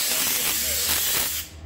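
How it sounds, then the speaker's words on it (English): A steam cleaner blasts vapor while cleaning a car, a loud continuous hissing jet that holds steady for under two seconds before briefly dipping. "So if I'm steam cleaning a car"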